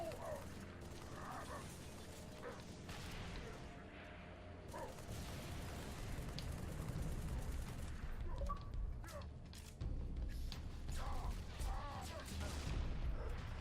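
Gunfire in Halo 3: ODST on Xbox 360, scattered shots and mechanical clatter running steadily through a busy game mix of ambience and effects, with a player talking over it.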